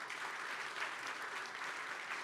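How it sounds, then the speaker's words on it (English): Sustained applause from a gala audience for a panel, dense steady clapping throughout with no voices over it. "please give a big round of applause to this wonderful panel tonight"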